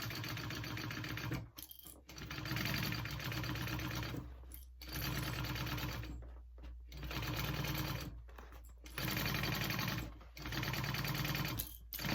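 A sewing machine stitches the lining of a tote bag in loud, close runs of several seconds each. Brief pauses separate the runs, and the machine sounds alone.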